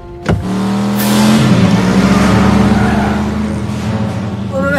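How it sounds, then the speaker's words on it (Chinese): A car engine is revved hard from inside the vehicle, opening with a short thump and then a loud, close, rising engine whine that holds steady at high pitch. "試一下引擎先"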